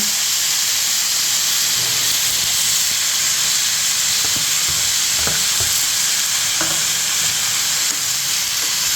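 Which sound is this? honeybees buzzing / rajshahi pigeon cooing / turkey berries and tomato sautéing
turkey berries and tomato sautéing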